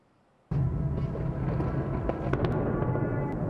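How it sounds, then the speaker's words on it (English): A sudden loud blast opens into a sustained roar of rumbling explosions with sharp crackling pops scattered throughout, as wartime strikes hit apartment blocks in Kyiv, Ukraine. "Explosions rock the Ukrainian capital Kyiv, destroying apartment blocks and reducing city blocks to rubble."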